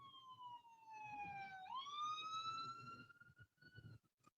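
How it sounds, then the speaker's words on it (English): A police siren wails in snowy city traffic, one clear rising and falling tone that is moderately near, over a low rumble of engines and road noise. "Lots of sirens around here."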